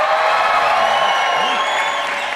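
Comedy club audience cheering and applauding, a loud, dense wash of clapping with whoops and shouts running throughout.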